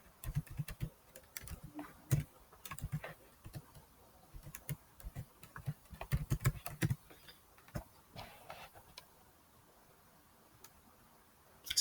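Someone types on a computer keyboard, entering a password into a web sign-in form; the key clicks come close and quiet in irregular bursts with short pauses, and no one speaks.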